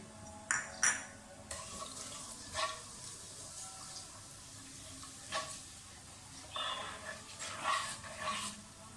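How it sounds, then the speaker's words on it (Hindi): Whole spices hit hot cooking oil in a pan, giving a soft sizzle with scattered crackles and pops, close up and moderate in level, with no talking. "ऑयल गर्म हो जाए तो साबुत मसाला डाल दें।"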